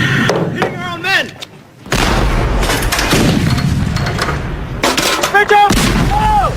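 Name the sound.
artillery and gunfire in a war movie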